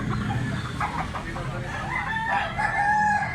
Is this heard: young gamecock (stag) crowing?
yes